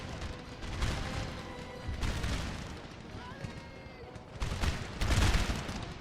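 Cannon and musket fire from a Napoleonic battle in Napoleon: Total War, with booming volleys and crackling shots rolling continuously and swelling in bursts, dense and mid-distance, with a voice talking over it.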